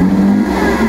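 A Lamborghini Aventador SVJ V12 engine fires up and holds a loud, steady, deep rumble at close range, with no one talking.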